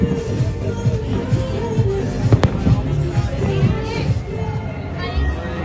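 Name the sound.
closing-day fireworks at Global Village Dubai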